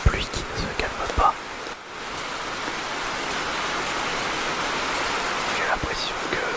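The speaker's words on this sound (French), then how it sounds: "La pluie qui ne se calme pas." Steady rain pours down in a dense, unbroken hiss that stays even and close throughout, with a few faint clicks early on before settling into a constant wash.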